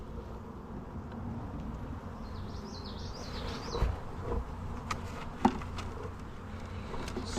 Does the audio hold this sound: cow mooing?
no